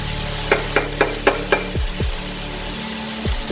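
Pork browning in a frying pan for afritada, a steady sizzle under a run of sharp clinks from the stirring utensil, then a few duller low knocks of the pan, with no talk.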